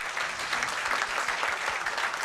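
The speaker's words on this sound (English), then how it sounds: "Let us hear a huge round of applause for one last time" Loud, sustained audience applause at the close of an evening event, a dense wash of many hands clapping steadily throughout with no talk over it.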